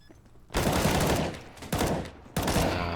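An R8 revolver fires in a CS:GO match, with three loud, close shots in quick succession, each a sharp blast whose rumbling tail rings on into the next.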